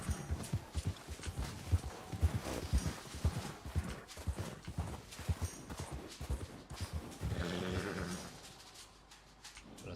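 Horse hooves clip-clop in a steady, fairly close riding rhythm with an occasional whinny in Red Dead Redemption 2, a cold wilderness ride, easing off near the end.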